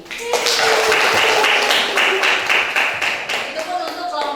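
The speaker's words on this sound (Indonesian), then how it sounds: "tepuk tangan ya buat kelompoknya" Schoolchildren clapping for a classmate group during a chemistry lesson on acids and bases, a lively burst of hand claps close by, with voices talking over it and the clapping thinning toward the end.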